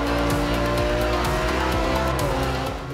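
A McLaren P1 race car in Forza Horizon 2 drives with a loud, steady engine roar. Its pitch climbs and shifts through repeated gear changes over three seconds, with a hint of tire noise.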